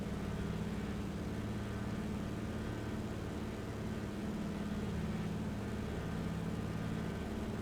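Propeller aircraft engine in Microsoft Flight Simulator with throttle pulled back and revs lowered, giving a steady, continuous low drone that holds level and fairly loud throughout with no talk over it.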